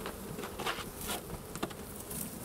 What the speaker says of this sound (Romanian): Aici avem familia de albine.